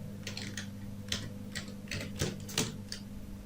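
Keys clack on a computer keyboard while someone lays out a hotel and restaurant flyer in PowerPoint. Close, irregular bursts of quick keystrokes with short pauses between words, steady throughout and no talking.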